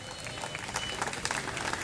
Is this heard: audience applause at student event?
yes